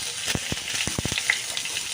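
Green tomatoes fry in a pan of hot oil, giving a loud, steady sizzle full of sharp, close crackles and pops.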